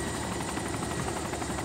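Helicopter in the video game DayZ, a loud continuous rotor thump and engine roar at close range, steady with no speech over it.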